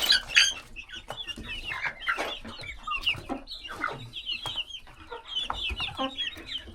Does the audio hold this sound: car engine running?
no